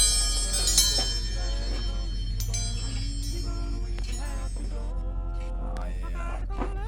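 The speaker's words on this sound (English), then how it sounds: "that's what you call hillbilly wind chimes right there" Makeshift hillbilly wind chimes ring outdoors, giving a series of metallic clinks and sustained bell-like tones over a low background hum, moderately loud and close.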